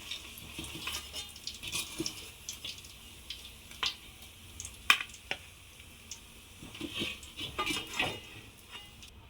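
Paneer pieces fry in a pan with a light, uneven sizzle, punctuated by scattered sharp crackles and small clinks from stirring. The sound is close and fairly soft, rising and falling over several seconds.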